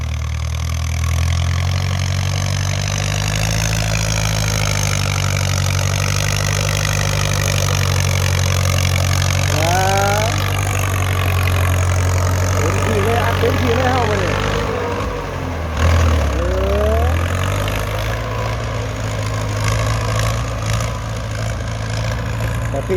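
A Ford 6600 tractor engine idles and revs steadily at close range while filling a pond, its heavy low drone continuous with shifts in pitch, and voices talking over it.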